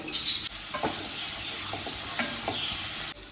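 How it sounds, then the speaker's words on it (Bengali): Chopped garlic and green chillies frying in mustard oil, making a loud, continuous close sizzle. Scraping stir strokes recur throughout, and the sound cuts off abruptly near the end, with no one talking. "এবার এটাকে আমি খুব ভালো করে একটু ভাজা হতে দেবো।"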